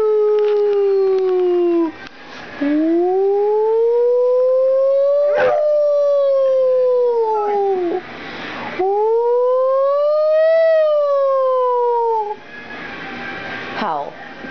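A dog howling indoors in long, wavering rising-and-falling notes, loud and close, a few drawn-out howls broken by short pauses and a sharp yelp.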